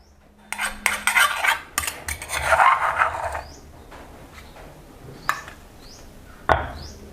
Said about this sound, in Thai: ใส่พริกแดงจินดาลงไป 5 เม็ด ตามด้วยกะปิครับ 1 ช้อนโต๊ะ โขลกให้เข้ากัน